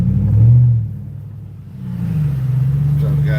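A truck engine rumbles low and close, swelling in a rev, easing off, then climbing again to a steady drone.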